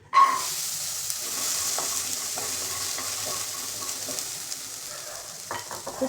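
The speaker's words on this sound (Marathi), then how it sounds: "आता आपल्याला मटार भाजून घ्यायचे" Green peas dry-roasting in a pan for matar kachori, giving a steady soft sizzle and faint scraping as they are stirred, alone with no talk.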